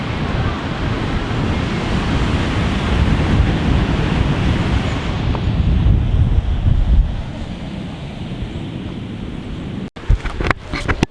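Sea waves surge and rumble steadily against the Egyptian shore while strong wind buffets the microphone. The roar fades slightly toward the end, when a few short knocks and rustles break in.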